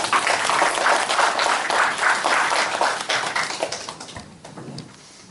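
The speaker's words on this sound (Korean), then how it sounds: "큰 박수로 모시겠습니다" Audience at a provincial government meeting in a hall claps loudly and densely, then the applause gradually thins and fades toward the end.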